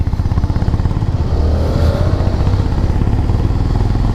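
A motorcycle climbs a steep incline in first gear on a mountain ride near a fort, its engine a close, loud, steady throbbing drone that strains evenly from start to end, with no talking.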